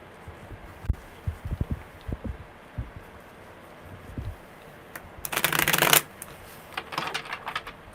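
Soft taps and handling noises, then a burst of tarot cards riffled together up close, followed by a few lighter flicks.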